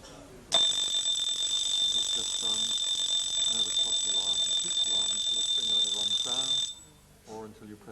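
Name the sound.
mechanical clock alarm ringing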